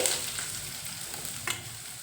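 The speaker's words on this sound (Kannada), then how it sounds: "ಕಾಳಿಗೆ ಒಗ್ಗರಣೆ ಕೊಟ್ಕೊತ ಇದ್ದೀನಿ ಸಾಸಿವೆ ಹಾಕೊಂಡಿದ್ದೀನಿ" Mustard seeds and green chilli tempering in hot oil with onions frying, a faint steady sizzle with a brief crackle and stirring near the end, no voices.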